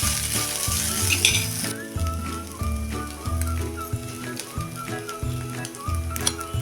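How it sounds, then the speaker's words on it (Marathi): Poha (flattened rice) sautéed in a hot pan after salt and sugar go in, a steady close sizzle with scraping stirs running throughout, no voices. "पोहे चांगले गरम होईपर्यंत परतून घेऊया"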